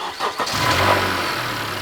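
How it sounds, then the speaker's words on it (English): Honda Earth Dreams engine running with noisy high-pressure fuel injectors, a loud, close, steady mechanical drone with a faint busy ticking over it. "In Hondas, they often have noisy injectors on these. They're high pressure systems. You'll hear noises like this."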